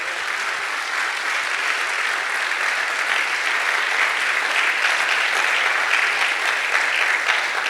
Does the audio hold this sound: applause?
yes